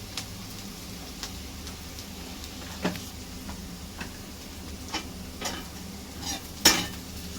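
Onions salted in a hot pan are stirred, a spoon scraping and clinking against the metal in scattered knocks over a soft, steady sizzle, with one sharper clack near the end.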